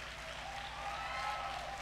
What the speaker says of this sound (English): Let us give a round of applause to our leaders who brought this initiative.